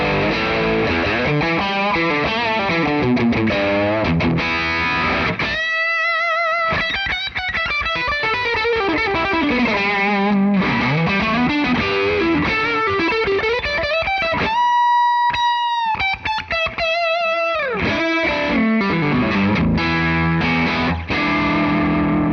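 Electric guitar through a fully cranked Dr. Z style amp tone, heavily distorted and loud, with sustained chords and bending melodic lines broken by brief pauses, played alone with no talking.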